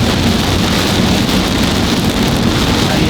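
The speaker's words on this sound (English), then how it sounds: "Just a torrential downpour. Can't see anything." A torrential downpour hammers a vehicle while driving, a dense, loud, unbroken roar of rain on the surfaces with no voices.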